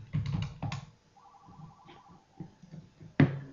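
A Forum IP 3020 desk phone rings with a short electronic warble, faint and brief, between soft clicks and handling noises, ending in a sharper knock, with no talk.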